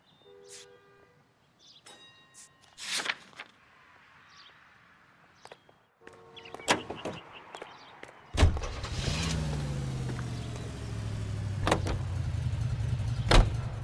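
A car in the L.A. Noire video game starts up and pulls away, its engine building to a steady drone after earlier door clunks, footsteps and mechanical clicks.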